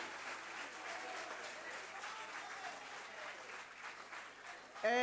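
Gallery visitors applaud in a parliamentary chamber during a budget debate, a steady wash of clapping lasting throughout before a brief voice cuts in at the very end.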